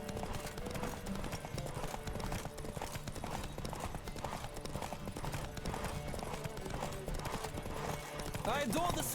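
Galloping horse hooves in The Witcher 3 during a horse race, a continuous fast clip-clop rhythm up close for several seconds, with voices talking over the gallop and a brief whinny near the end.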